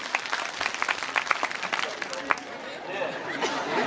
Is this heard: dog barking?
no